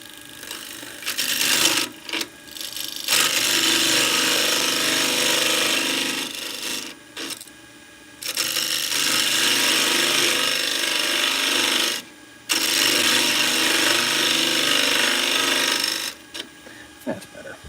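A wood lathe trims a cracked log, the gouge or scraper producing loud, harsh scraping and rasping in several long passes separated by brief pauses, close up.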